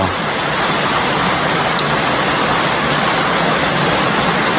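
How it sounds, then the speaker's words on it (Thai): Downpour of heavy rain around a house in the countryside, a constant loud wash of noise with no breaks and no one speaking. "ฝนตกเอาแท้เอาว่าพี่น้องอยู่บ้านเฮา"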